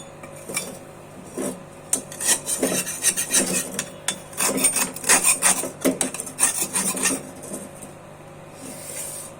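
Vigorous scrubbing of a small heated wok to lift stuck residue, producing loud, close rasping strokes in quick irregular bursts that build in the middle and fade toward the end, with no talking.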